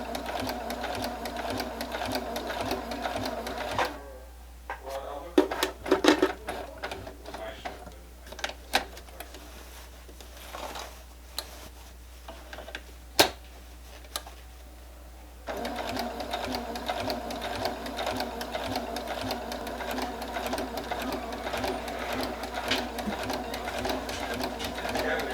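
Sewing machine quilting the centerpiece of a quilt, running steadily at the start and end with a quieter stretch of scattered clicks and handling noise in between, close and continuous.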